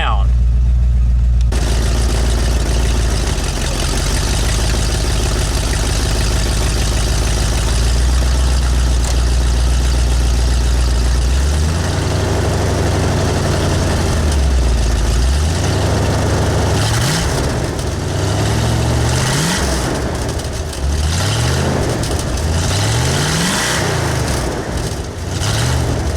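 A car engine fitted with new mufflers idles loudly up close, then is revved repeatedly in rising and falling throttle blips, a deep rumbling exhaust swelling and dropping several times, with voices talking over it.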